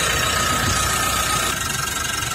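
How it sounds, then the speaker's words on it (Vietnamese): A 2017 Mitsubishi Triton engine idles smoothly and steadily, with a continuous low mechanical hum and no knocking, heard up close without any talk. "Đây, về cái động cơ đang chạy, đang nổ, máy rất êm, không có tiếng gõ lạch cạch gì cả"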